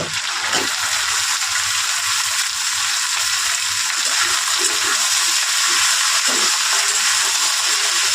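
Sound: spiny gourd (kakrol) pieces frying and being stirred

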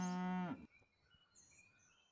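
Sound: cow mooing in Super Auto Pets video game

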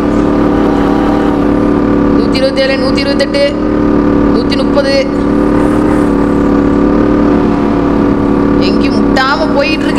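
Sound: KTM Duke 690 motorcycle engine at top speed in the video game GTA San Andreas

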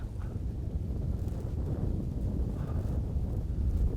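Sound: strong gusty winter wind

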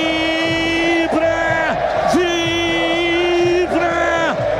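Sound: football crowd cheering after a Ponte Preta goal

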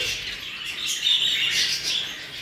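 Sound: budgerigars chirping in a breeding house

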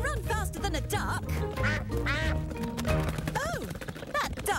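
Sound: duck quacking

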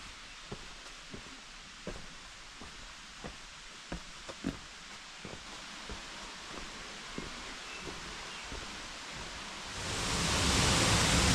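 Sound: Kurşunlu Waterfall rushing water

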